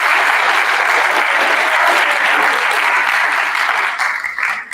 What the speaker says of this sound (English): if you help me applaud our parents and their extra help this year